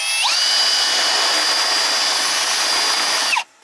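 A power drill whirs steadily at high speed for about three seconds, loud and close, then winds down and stops.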